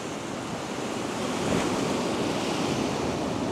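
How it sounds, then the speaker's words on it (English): Ocean surf washes in a continuous broad roar, swelling slightly louder as a wave breaks partway through, with wind noise mixed in. "A bit of a wave set coming through"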